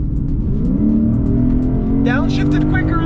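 A Lexus IS 500 and a Ford Mustang V8 roar side by side in a drag race, a loud steady engine drone climbing in pitch under accelerating throttle, while someone talks over it from inside the car.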